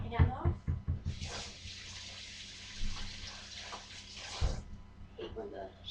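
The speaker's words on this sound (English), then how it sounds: "step away for just a second, rinse my cinnamon sugar hand off." A kitchen tap runs steadily for a few seconds as a hand coated in cinnamon sugar is rinsed under it, a soft hissing stream close by with a person talking just before and after.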